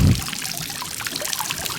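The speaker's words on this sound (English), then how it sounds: "This is Jazz in the shower in the morning." Water runs from a morning shower in a continuous close splashing pour, steady and moderately loud, with no one speaking.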